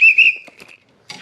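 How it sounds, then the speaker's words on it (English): A safety whistle kept on a fishing kayak gives a shrill, piercing blast of under a second, followed by a few light clicks and a brief rustle nearby. "you can blow that whistle"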